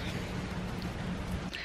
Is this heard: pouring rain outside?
yes